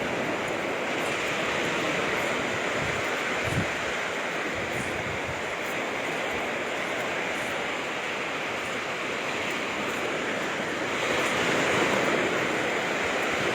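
Rough sea waves at Matabungkay Beach in Batangas, a steady loud roar of surf and rushing water with wind across the microphone, continuous throughout without speech.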